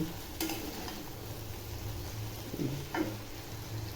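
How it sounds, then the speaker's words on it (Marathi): Okra and potato pieces dusted with chili powder are stirred in a pan, giving a low steady sizzle with a few soft scraping strokes of the spoon, close and without speech. "मिरची पावडर टाकल्यावरही मस्तमध्ये हलवून घ्यायचं"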